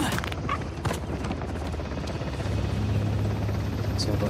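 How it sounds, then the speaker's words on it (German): Helicopter lifting off in Uncharted: The Lost Legacy, a loud, close rotor roar with dense chopping throb that holds steady throughout, with a few sharp bangs early on. "Heli hat abgehoben."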